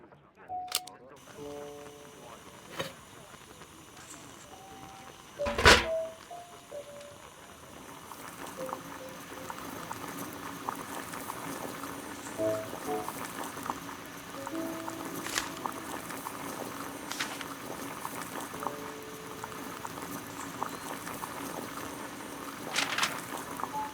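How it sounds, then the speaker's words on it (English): Water heating in a kettle on a gas burner in Sherlock Holmes: The Devil's Daughter gives a soft, steady hiss that builds and holds after a sharp click, with faint tonal game ambience underneath. "Boil water in kettle"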